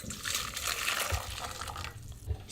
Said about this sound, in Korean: 끓는 물을 버리세요.